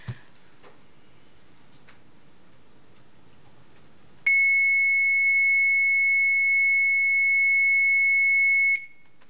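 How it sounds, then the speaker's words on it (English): A golf cart's reverse alarm sounds as one loud, sustained high-pitched electronic tone for about four and a half seconds, rated at 107 decibels, following a quiet, faintly rustling room. "So that's what the reverse alarm on a golf cart actually sounds like"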